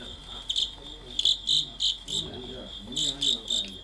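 Crickets chirping at a cricket fight in Beijing, a series of sharp, shrill chirp bursts in uneven rhythm, close and fairly loud, with faint background murmur beneath.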